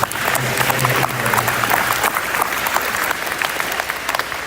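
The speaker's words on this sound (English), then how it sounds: "let's give these guys a round of applause, please" Applause from a sports banquet crowd, dense and steady for several seconds with no one talking over it.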